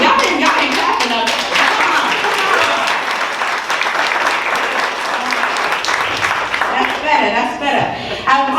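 Audience at a Florida Tech African American Read-In breaks into sustained applause, a dense wash of clapping hands filling the room throughout, with voices mixed in underneath.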